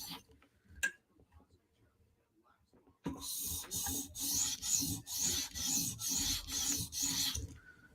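A knife blade is stroked across a whetstone in a quick, even series of rasping rubs, close and fairly quiet, after a few scattered clicks and near-silence.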